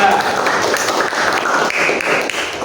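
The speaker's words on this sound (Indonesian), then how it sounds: "tepuk tangan untuk kelompok 2" Classroom of students clapping for group 2, a steady dense burst of many hands clapping fairly close and loud throughout.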